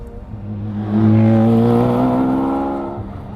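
A GMA T.50 supercar driving slowly on the GMA test track, its engine note rising as it accelerates, then holding a steady, smooth tone before easing off, close and loud with no talking.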